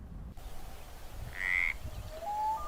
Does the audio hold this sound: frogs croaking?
yes